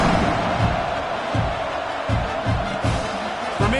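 College football stadium crowd roaring steadily at a kickoff, a dense wash of cheering with scattered thuds and slams breaking through every half second or so, loud and close throughout.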